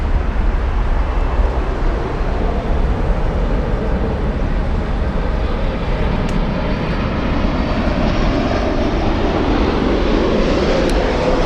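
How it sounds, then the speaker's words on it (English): Lufthansa Boeing 747 jet arriving from Buenos Aires at Frankfurt, its engines producing a steady, loud, broadband roar that holds close and constant throughout. "All right, let's go for the 747."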